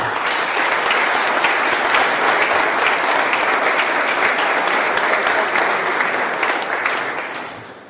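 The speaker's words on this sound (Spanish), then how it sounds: "pienso que debemos darle un fuerte aplauso a don Eugenio Pérez Montá." A large crowd applauds loudly and steadily, dense clapping sustained throughout before easing slightly at the end.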